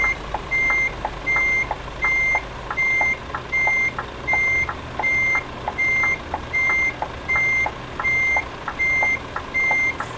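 A truck backs up with its reversal alarm beeping in a steady, regular on-off pattern for the whole stretch, loud and close over a low engine rumble, with no talking.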